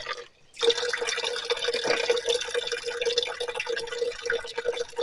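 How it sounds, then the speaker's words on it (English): Water from an old hand pump pours steadily into an 8-quart bucket, a continuous close splashing rush that starts after a brief pause and runs without break. "the bucket filling up with water"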